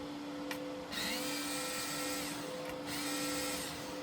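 An electric screwdriver backs small screws out of a Logitech G29/G920/G923 racing wheel, a steady close motor whir with a constant tone, broken by two short pauses where the pitch shifts.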